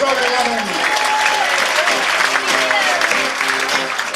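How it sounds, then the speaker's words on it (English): Loud, steady applause from an audience at a midnight show fills the whole stretch as continuous dense clapping, with a voice faintly over it. "Give a big round of applause for Larry."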